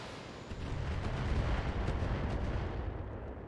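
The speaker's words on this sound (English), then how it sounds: "Those must be the turrets." Turrets firing in a space combat video game produce a loud, continuous rumbling barrage of heavy blasts that swells after a brief quieter opening and holds steady to the end.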